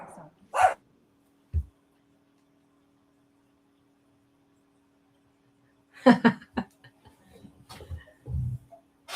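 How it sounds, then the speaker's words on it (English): A dog gives a couple of short barks near the start, then after a quiet gap a burst of sharper yips and barks mixed with low thuds and movement noise. "Naughty dog."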